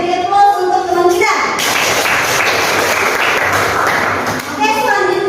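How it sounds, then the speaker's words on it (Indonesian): A classroom of students breaks into a burst of applause for a classmate, loud clapping lasting a few seconds between stretches of a teacher's voice. "beri aplaus untuk teman kita"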